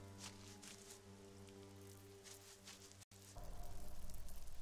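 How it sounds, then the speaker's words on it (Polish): Rain falls steadily in the Elex video game, a soft continuous patter over a low droning hum, with a brief dropout and then a louder rush of rain near the end. "no cały czas mi deszcz spada, serio"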